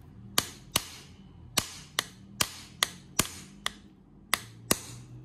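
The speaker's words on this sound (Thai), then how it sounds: "เพื่อที่จะให้ตะปูมันตอกลงไปแบบตรงๆนะคะ ต้องค่อยๆตอกลงไปนะคะ" Nail struck with a hammer into an artificial rattan tray (khantoke), nine sharp, loud taps at uneven intervals of roughly half a second, each with a short ringing decay, alone without talk.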